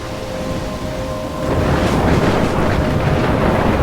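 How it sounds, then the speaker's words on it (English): A thunderstorm in the Life is Strange video game: rain pours with wind, and a heavy roll of thunder swells about halfway through into a loud, sustained rumbling roar. "I'm trapped in a storm?"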